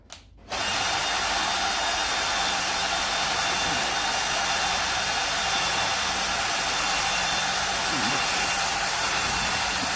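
A motorized column on a Rong Fu RF30 round-column drill moves the chuck downward. A brief hush gives way to a steady, loud motor whine that holds evenly for the rest of the clip.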